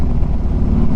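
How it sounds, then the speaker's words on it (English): Harley-Davidson Street Glide fitted with Vance & Hines True Duals exhaust, a loud, steady low rumble while riding, with wind buffeting the microphone. "I like these Vance & I True Duals on there. They sound good."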